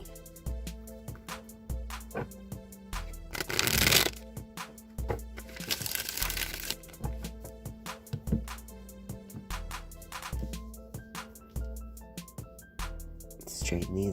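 A tarot deck being shuffled once more, a few brief papery riffles and rustling bursts near the start and middle, close and soft, over steady low background music with no talking.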